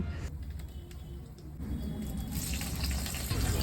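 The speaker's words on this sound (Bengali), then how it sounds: "আমার মা তেলের মধ্যে দিয়ে দিল ফড়ং আর কয়টা কাঁচা লঙ্কা" Five-spice seeds and green chillies dropped into hot oil, a steady bubbling sizzle that grows louder and brighter partway through as the frying intensifies, close by with no talk.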